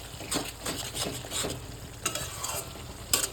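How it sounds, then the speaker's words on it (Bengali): Chicken masala for black pepper chicken sizzles and fries in a pan, with steady scraping strokes of a spoon stirring it at a near, moderate level and no talking. "আগে মশলাটা একটু ভেজে তারপর গরম জল দিয়ে আবার ভালো করে ভাজতে হবে।"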